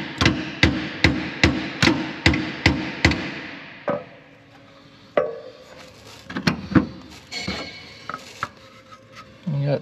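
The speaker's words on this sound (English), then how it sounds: "Let me get that little hammer and I can tap it a little bit." About eight sharp, evenly spaced small-hammer taps strike the metal of a 53-year-old Caterpillar D7F dozer in a quick steady rhythm, then a few scattered knocks and clanks follow.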